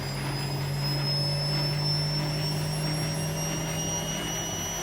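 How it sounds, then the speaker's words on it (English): Bush F721QW washing machine in a fast wash cycle, spinning and pumping at once: a steady, loud, continuous hum and whine with a persistent low drone, unbroken and without talk. "So it's spinning and pumping there. It's quite loud."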